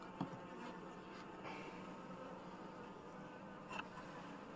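A low, steady drone of many honey bees buzzing around a hive with frames of honey, faint and continuous, with a couple of individual bees passing closer.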